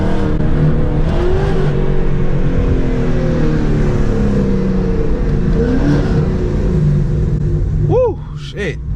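A Ford Mustang GT fitted with Texas Speed longtube headers pulls hard from inside the cabin, its loud V8 exhaust rising and droning steadily, then a quick upshift with a brief dip and renewed rev near the end.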